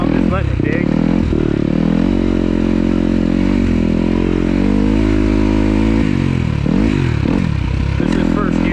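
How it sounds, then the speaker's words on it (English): Close, loud engine of a 2026 Kawasaki KX250 dirt bike held at around half throttle, then a clutch dump with the revs wavering and bogging briefly before climbing again, with someone speaking over it. "That was probably half throttle, you know, nice clutch dump, just letting it dig."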